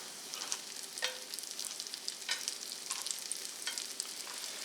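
Baguette slices frying in a pan after butter foam has subsided, a soft continuous sizzle close by with small crackles and pops scattered through it, no voices.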